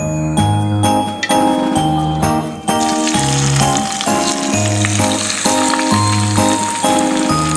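Loud, steady sizzling of mince frying in hot oil in a pan, with occasional clinks of a utensil stirring, no voices.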